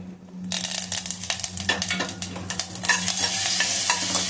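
Curry leaves hit hot oil in a tempering of mustard seeds, cumin and asafoetida, bursting into a bright, spattering sizzle with quick crackles and a spoon stirring, the hiss growing steadier and louder toward the end.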